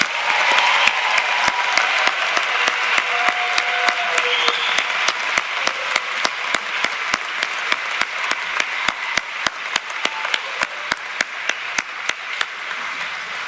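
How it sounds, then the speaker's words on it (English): Audience applause for graduates at a spring commencement ceremony, steady broad clapping from a large crowd that carries on throughout with a few sharp individual claps standing out, and no voices over it. "Let's give these graduates a round of applause."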